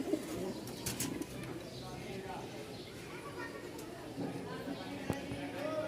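Pigeons in a loft coo softly, with scattered wing flaps and clattering movement, while someone talks over them throughout.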